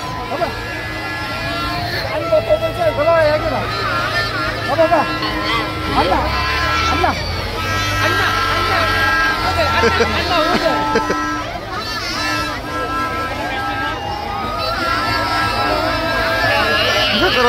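A dense crowd mills about at a village jatra in Sajgaon, Khopoli, a continuous hubbub of overlapping voices and chatter with occasional louder calls and a low vehicle hum beneath.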